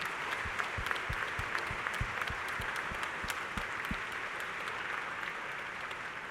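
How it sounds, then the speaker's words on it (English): A commencement audience applauds international students, the clapping dense and steady at first and then thinning and fading over several seconds, heard from a distance in a large hall. "Can we please give a round of applause to our international students?"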